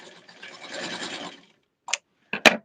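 A home sewing machine runs a short stitching burst, double-sewing a seam on a small tweed doll skirt, followed by a couple of brief clicks and handling noises, quiet and close.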